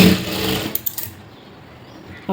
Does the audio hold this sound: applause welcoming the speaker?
no